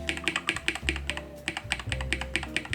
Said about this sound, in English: here's what the keyboard sounds like when I'm typing